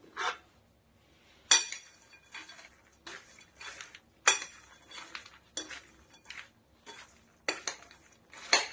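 Makhana chaat being mixed in a bowl, producing a series of close, irregular clinks and scrapes of a spoon against the dish, in short bursts with quiet gaps and no talking.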